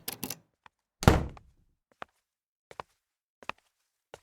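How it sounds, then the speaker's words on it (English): Footsteps echo through an empty lobby after an elevator reaches the ground floor, opening with a heavy thunk followed by about six sharp, evenly spaced steps that ring out alone in the quiet space. "Footsteps echo through the empty lobby."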